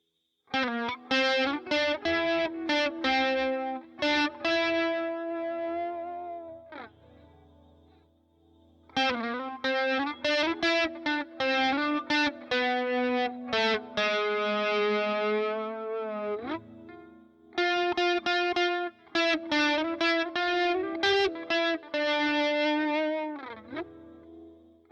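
Steinberger Spirit GT-Pro electric guitar played through distortion and chorus effects, picking out a recognizable melody in three loud, sustained solo phrases separated by short pauses, with no voices.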